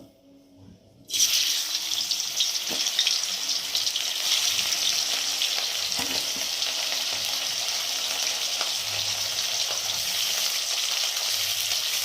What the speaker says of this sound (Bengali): আর এখন আমি একে একে মাছগুলো দিয়ে ভেজে নেব।